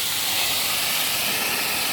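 A garden hose sprays water into a cracked egg to whip it into foam, making a continuous close hiss with no pauses.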